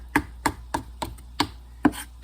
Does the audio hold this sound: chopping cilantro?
yes